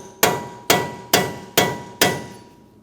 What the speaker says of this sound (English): Let's unpeen our nut here for the axle.